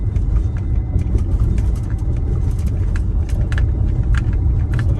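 Tesla running FSD 11.3.6 driving through Redondo Beach and Palos Verdes streets, a steady close road rumble and tyre hum throughout with faint clicks, no talk.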